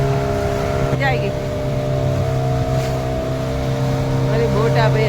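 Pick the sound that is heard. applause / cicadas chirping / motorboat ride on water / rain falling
motorboat ride on water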